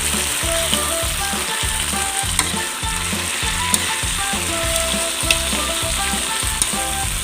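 Fish caldereta made with fresh river fish sizzles loudly in a pan while being stirred, with a steady frying hiss and rhythmic scraping strokes repeating throughout, close and with no talking.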